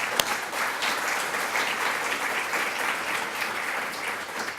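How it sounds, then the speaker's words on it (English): Applause at a health services research event for poster presenters, an even, full-room clapping that stays steady throughout without speech. "let's have a round of applause for our 22 poster presenters who presented last night"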